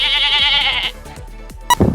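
A goat gives one loud, drawn-out bleat lasting almost a second, followed by quieter rustling and a sharp brief noise at the end. No one speaks.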